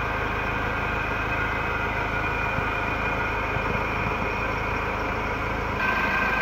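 A 2012 Ford Ranger pickup with the 2.2 diesel engine and manual gearbox idles at a steady, smooth low rumble close by, holding an even level throughout with no talking.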